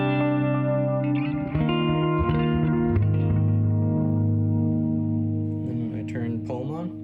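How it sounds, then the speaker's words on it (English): Electric guitar run through a delay pedal alone, sustained notes with repeating echoes and a steady, loud tone throughout, with no talking over it. "So here's the delay just by itself currently."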